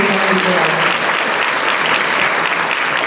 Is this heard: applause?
yes